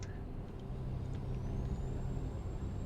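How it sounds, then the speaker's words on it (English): Trucks rolling past on a highway in American Truck Simulator, with a steady low engine and road rumble and a short hiss of air brakes near the start, all moderately loud with no talk. "driving past the trucks, just."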